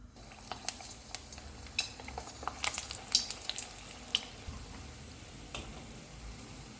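Aloo koftas frying in hot oil over a low-to-medium flame, a soft steady sizzle with scattered small pops and crackles throughout, fairly quiet and close, no talking.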